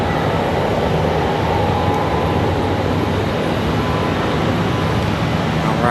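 A jet airliner departs Charlotte Douglas airport on a hot day, a steady, broad roar of engine noise that holds at a constant level throughout, with no voices.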